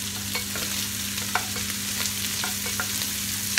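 Fresh garlic, ginger, coriander and chilies frying in a pan for an Indian chicken curry, a steady close sizzle with scattered light crackles and stirring scrapes over a low hum.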